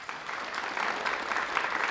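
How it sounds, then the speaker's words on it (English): A summit crowd at the Alaska Innovation Summit pitch contest and hall of fame gives a sustained round of applause, full and close, lasting about two seconds without talk. "let's give another round of applause for Peter"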